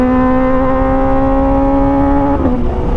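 Kawasaki ZX25R motorcycle with an Arrow Pro Race exhaust holding a loud, steady high-pitched engine rev near the mic, dropping slightly in pitch toward the end.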